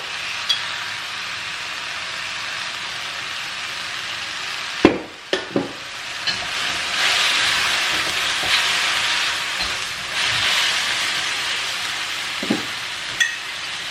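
Pak choi fries in a pan with soy sauce, giving a steady hiss of sizzling broken by a few sharp clatters partway through, then the sizzle swells and settles with occasional clicks.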